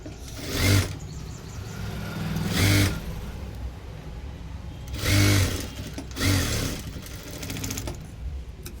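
Sewing machine stitching a folded lace strip onto a blouse, running in four short whirring bursts of about half a second each, with quiet pauses between them, close by and with no talk.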